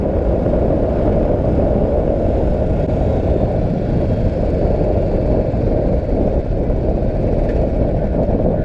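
A Royal Enfield BS4 motorcycle engine idles nearby with a steady, low, continuous thumping rumble.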